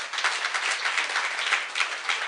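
A church congregation applauds, a dense, even patter of many hands clapping together for a couple of seconds at moderate volume, with no voices over it.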